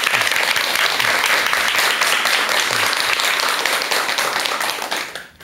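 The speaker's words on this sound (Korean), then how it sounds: "자, 그럼 지금부터 큰 박수와 함께 박사님의 강의 청해 듣도록 하겠습니다." A lecture audience gives a big round of applause to welcome the speaker to a Buddhist talk, loud, dense clapping from many hands that holds steady, then quickly tapers off and fades out at the end.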